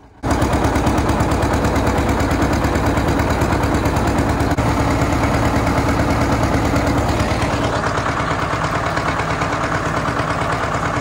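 A John Deere 9RX tractor pulls a disc through ground around brush piles, its big diesel engine pounding out a loud, steady, throbbing drone that carries on unbroken from start to finish.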